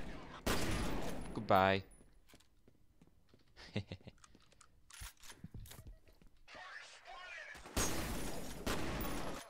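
Automatic gunfire sounds in the first-person shooter F.E.A.R. Two loud, sustained bursts come at the start and the end, with scattered single shots and a brief voice in the quieter stretch between.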